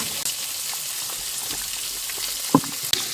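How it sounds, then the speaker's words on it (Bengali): Chopped onion frying in hot oil with green chili, garlic, salt and turmeric, a steady close sizzle with a few sharp pops and clinks near the end, no voices. "পেঁয়াজ কুচি দিয়ে দিলাম"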